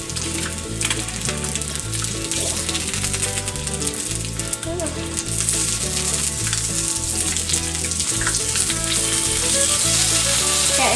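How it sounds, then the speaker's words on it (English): Bacon frying in a covered pan, a loud, continuous crackling sizzle with dense spitting pops throughout, heard close over steady background music. "When you cover the bacon, it cooks faster."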